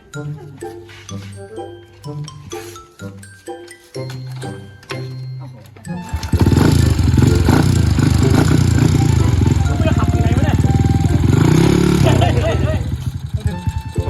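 A motorcycle is ridden on the way to a Loy Krathong outing, its engine droning loud and close for the second half after a stretch of clinks, chatter and music-like tones, with voices talking over it.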